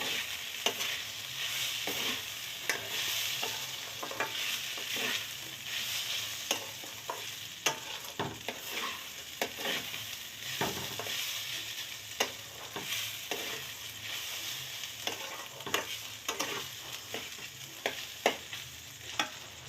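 Gobindobhog rice frying in a pan before water goes in, a continuous close sizzle broken by frequent scraping stirs of a spoon across the pan bottom, steady and fairly loud throughout.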